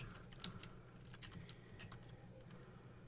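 Quiet clicks of a computer keyboard as HTML code is typed into a web page file, with scattered keystrokes of varying strength close by and no talk.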